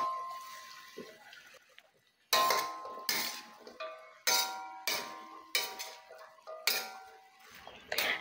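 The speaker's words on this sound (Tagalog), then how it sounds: "haluin lang natin" A utensil stirs chop suey with chicken, chicken liver and shrimp in a pan, seven or so rhythmic scraping clinks in a steady beat after a quiet start, close by and with no voices.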